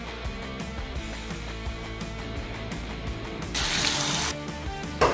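Running water at a sink during face washing, a steady stream with a brief louder splash near the end and no talk.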